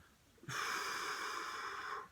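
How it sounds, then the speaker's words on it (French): A forceful exhale through the mouth during a cycling stretch, one steady breathy rush lasting about a second and a half, close and fairly loud, beginning abruptly and fading at the end. "Là, j'expire."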